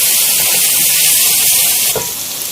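Spices and masala with turmeric sizzle loudly in a pan while being mixed for chana pulao, giving a dense, continuous hiss that eases slightly near the end.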